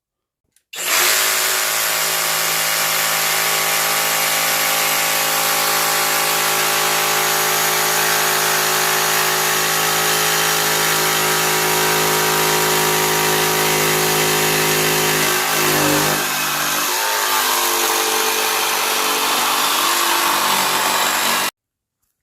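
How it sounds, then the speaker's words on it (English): A power saw runs loud and steady for about twenty seconds while making a plunge cut, its whine holding constant with a brief dip in load partway through, then cutting off; no talking. "now we're going to show you how to plunge cut instead of doing some holes"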